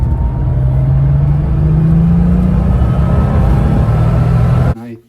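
A Porsche 930 engine drones steadily while the car drives, a loud continuous mid-low rumble with a slowly rising tone, cut off abruptly at the end.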